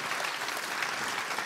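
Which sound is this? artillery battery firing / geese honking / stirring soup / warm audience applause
warm audience applause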